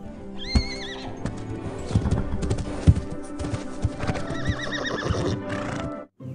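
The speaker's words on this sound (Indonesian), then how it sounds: "ada kuda" A horse in the video game Jurassic World Evolution clip-clops steadily with hooves near and clear, breaking into whinnying neighs at the start and again near the end, with no talk over it.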